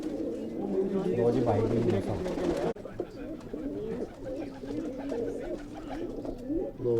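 Pigeons of the Dhoni breed coo in a loft, a steady layered murmur of calls running through the whole clip, with someone speaking over it.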